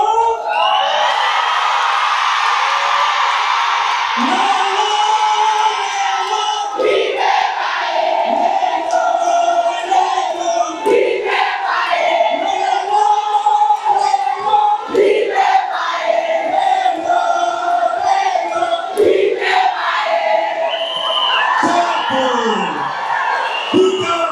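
A loud live show audience roars, whoops and yells continuously, with bursts of cheering rising and falling throughout; clapping is not clearly distinct under the din.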